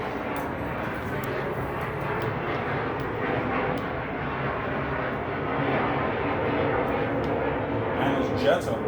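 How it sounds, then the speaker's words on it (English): Loud military jets roar overhead in a continuous, steady broadband rumble that swells slightly near the end, heard outdoors near a military base. "Man, those jets are loud, dude."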